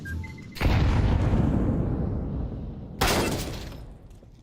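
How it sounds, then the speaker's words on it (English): Two loud grenade blasts in a video game, each a sudden close boom with a long rumbling, crackling decay, the second arriving about two and a half seconds after the first. "Throwing a grenade."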